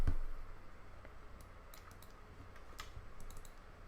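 Computer keyboard typing with scattered light clicks and short bursts of keystrokes, fairly quiet and close, with no talking.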